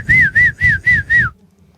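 A man whistles an imitation of a bigger bird: five rising-and-falling warbled notes in quick even succession, loud and close, then silence.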